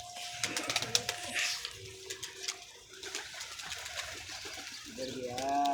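Pigeons coo softly and repeatedly at close range, with fluttering, splashing and scattered clicks around them.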